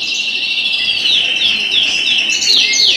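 Young siskins in an aviary twittering in bright, rapid chirps and trilling calls, a continuous close chorus with overlapping high notes and no talking.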